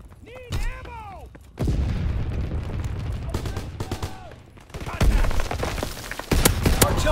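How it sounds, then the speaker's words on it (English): Division artillery in Call of Duty: WWII pounds away in repeated heavy booms and bursts of gunfire, loud and close, with shouted radio chatter and game voice lines layered over much of the barrage. "Firing division artillery."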